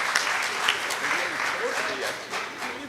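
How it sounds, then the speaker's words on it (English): An audience applauds Dr. Rajesh at a pulmonology conference, giving steady, moderately loud clapping from a hall crowd for about three seconds, with faint voices underneath. "Big applause."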